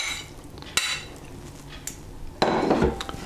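Cubed beef going into a bowl of salt-and-pepper seasoned flour for beef bourguignon, heard as a few sharp clinks and knocks followed by a louder burst of rustling and tumbling near the end.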